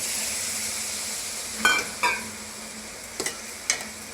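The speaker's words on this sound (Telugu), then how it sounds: "స్టవ్ ఆఫ్ చేసుకొని పాలు వేసుకొని కలుపుకోవాలి." Milk stirred into a rava laddu mixture in a pan with the stove off, faint low hiss beneath a few short spoon scrapes and taps against the pan, spaced irregularly.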